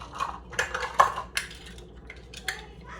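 Oats being stirred into an oat bar mixture in a bowl, with scattered clinks and scrapes of a utensil against the dish, close and fairly quiet.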